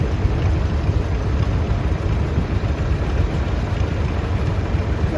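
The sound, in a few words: 1951 John Deere G tractor driving in parade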